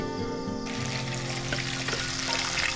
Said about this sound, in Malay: kita orang ambil lah untuk buat ikan goreng